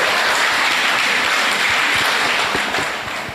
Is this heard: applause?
yes